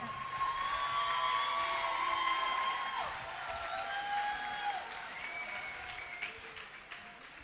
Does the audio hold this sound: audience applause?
yes